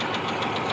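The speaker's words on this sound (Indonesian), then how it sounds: "bisa dilihat mesinnya sudah hidup" A Dodge Charger engine runs steadily after an ignition fuse fault is fixed, a brief close mechanical idle with a rapid knocking pulse and no talking.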